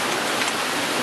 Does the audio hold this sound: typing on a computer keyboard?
no